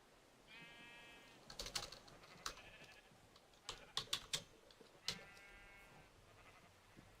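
Sheep in the Minecraft video game bleat in two short wavering calls, each about a second long, with fast clicky keyboard typing tapping around and between them.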